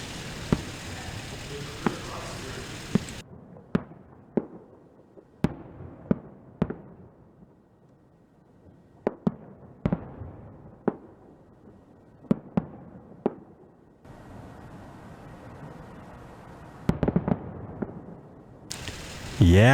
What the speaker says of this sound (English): Let's do some more fireworks, man, before we leave, all right?